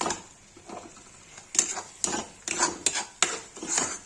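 Besan mixture being roasted in a pan for lauki kofta curry, with a spoon scraping and stirring in irregular clinks and scrapes over a soft sizzle, growing busier partway through.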